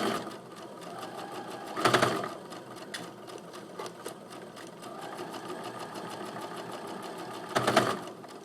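A sewing machine stitching a quilt block, its steady rapid mechanical whir running close and continuous, with two brief louder surges as the stitching speeds up.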